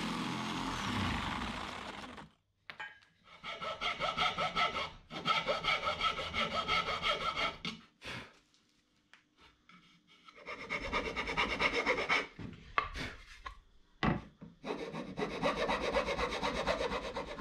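Plywood is cut by hand for a skiff, with bursts of rhythmic rasping saw strokes separated by short pauses and a few knocks, close and fairly loud, without voices.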